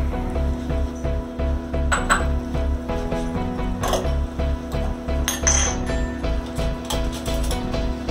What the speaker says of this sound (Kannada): ಆ ಪಾಕ ಆಗೋಂತ ನಾವು ಕ್ಯಾರೆಟ್ ತುರಿ ಹುರ್ಕೊಳ್ಳೋಣ. ಚೆನ್ನಾಗಿ ಹುರ್ಕೋಬೇಕಿದು ಸ್ವಲ್ಪ ತುಪ್ಪದಲ್ಲಿ